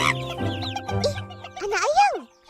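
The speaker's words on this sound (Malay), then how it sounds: "Anak ayam." Chick peeping and clucking in an Upin & Ipin cartoon episode, bright chirpy calls close and loud, overlapping with a voice.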